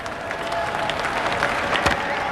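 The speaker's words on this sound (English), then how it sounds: "collected a good round of applause for Imran" Cricket crowd at a 1985 Pakistan vs India match applauding a delivery by Imran Khan, a steady wash of distant clapping across the whole stretch, with brief louder claps near the end.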